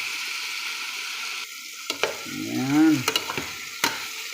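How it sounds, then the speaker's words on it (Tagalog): Chicken pieces sautéed with tomatoes in a hot pan for sinigang na manok, sizzling steadily up close, with the stirring getting louder and scraping briefly around the middle before settling back into frying. "sinangkutsa po natin sa kamatis para mas lalong masarap po, mas lalong malasa yung ating manok"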